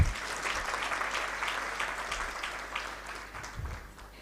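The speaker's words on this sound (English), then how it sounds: "Please give her a hand clap." Dense, steady applause from a seated audience at the launch of a women's energy and extractives network in Uganda, greeting a government minister; many hands clapping together at a fairly even level without a break.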